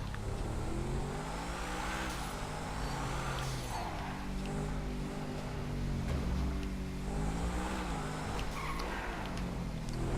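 The Adder supercar in GTA V roars steadily, engine revving and tires squealing and skidding throughout, loud and close with no break.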